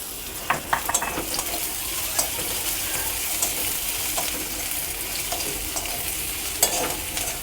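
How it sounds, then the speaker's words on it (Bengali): Crushed garlic sizzling alongside already-fried onions in a pan while being stirred, a steady crackling fry with intermittent scraping taps of the spoon; close and fairly loud, no talking. "আমি দিয়ে দিলাম রসুন কুচি, মানে থেতো করে রেখেছিলাম রসুনটা।"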